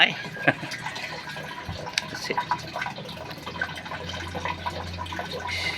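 Tap water runs steadily into a container for storing water at home in the early morning, a continuous splashing flow with occasional clinks while someone talks nearby.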